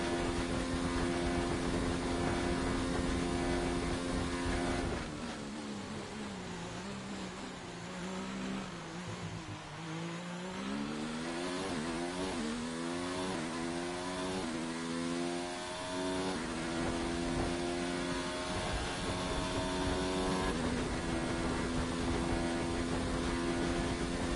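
A Formula 1 race car's engine with a worn power unit screams through laps of the Italy round in the F1 2019 video game. A sustained high whine dips and climbs through rapid gear-change sweeps midway, loud and continuous without talk.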